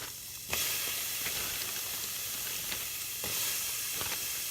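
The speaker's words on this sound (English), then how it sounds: "I'm just going to add my onions to the pan." Onions and peppers sizzle in a frying pan over medium heat for a vegan rice noodle dish, a steady broadband hiss that jumps up sharply as they hit the oil, with a few soft stirring clicks and no talk.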